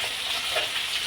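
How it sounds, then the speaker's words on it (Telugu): Okra fries in a pan, giving a dense, even sizzle that stays steady and close for a brief moment, with no voices. "ఇంకా బెండకాయ ఫ్రై చేస్తున్నాను"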